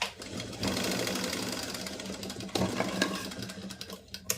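A sewing machine stitches the cross pieces of a pleated nighty, running in a steady close mechanical whir with a brief pause and restart midway, loud and alone without talk.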